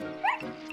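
A small cartoon dog, Snuffy, gives a single quick eager yip, short and high, heard alone at moderate loudness.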